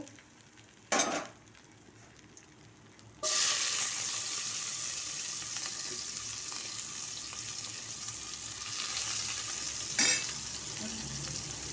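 Oil sizzling and frying in a pan for a Bengali pabda fish curry with tomato, a steady close hiss that starts abruptly after a couple of sharp clatters, with no talking.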